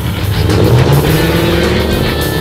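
A Cadillac race car speeds around a track, its engine a loud, steady roar held close throughout, with no speech.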